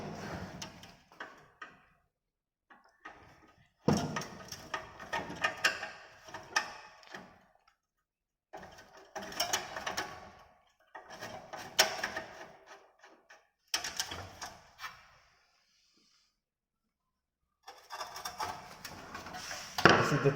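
A knob is pulled off a three-heat appliance switch and its screws are taken out: close, intermittent clicks, scrapes and small rattles in short bursts, separated by quiet pauses.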